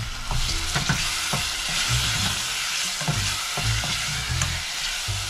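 Tomatoes sizzle and fry in a pan for chole, a steady bright crackle with periodic scraping stirs of a spoon, close and continuous with no talking.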